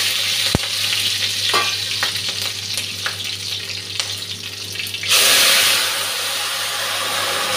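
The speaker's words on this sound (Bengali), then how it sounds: "তেলটা গরম হয়ে গেছে, ফোড়নটা দিয়ে দিচ্ছি। কাঁচা লঙ্কাটা দিয়ে দিচ্ছি, কালো জিরেটা দিয়ে দিচ্ছি।" Green chillies and black cumin seeds hit hot oil for a Bengali tempering, giving a steady close sizzle with stirring clatter; near the end the frying surges into a louder, brighter hiss that holds to the end.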